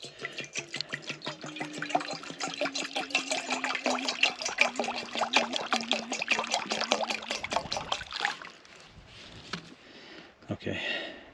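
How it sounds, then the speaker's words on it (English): Tap water runs steadily into a cooking pot for lutefisk, a continuous close pour lasting several seconds before stopping, with brief handling clatter after. "the first thing I'm going to do is fill up our pot with water."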